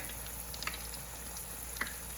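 Food deep frying in a small countertop fryer, a soft continuous sizzle and bubbling with a couple of brief crackling pops, quiet and close.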